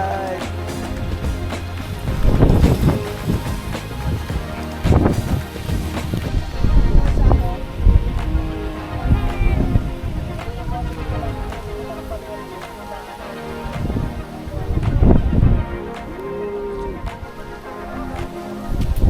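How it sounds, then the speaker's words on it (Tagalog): Strong wind gusts across the microphone at the Dingalan lighthouse in Aurora, a loud, ragged rumble that swells and fades over nearly twenty seconds, with voices talking now and then underneath. "Lakas ng hangin."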